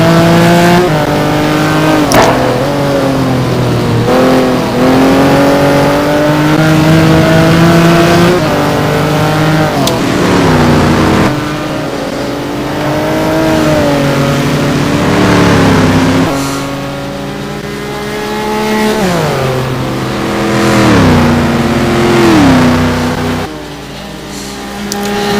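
Race cars in a GT1 racing video game at Monza roar continuously at high revs, their engine pitch rising and falling through gear changes as tires slide, loud and sustained throughout with no talk.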